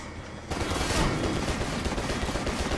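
Gunfire in the John Woo action game Stranglehold bursts in suddenly and keeps going as a dense, loud barrage of overlapping shots and booms.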